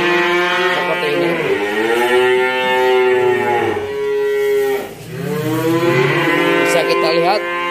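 Limousin and Simmental cattle in a cattle pen let out long, loud, close moos, two drawn-out bellows in succession with a brief dip between them and faint background noise.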